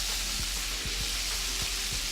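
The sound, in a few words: Hennessy hot sauce glaze boiling in a pan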